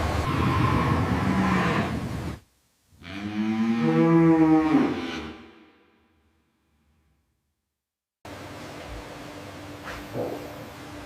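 A cow gives one long, loud, close moo lasting a few seconds, framed by farm or factory background noise that cuts out before and after.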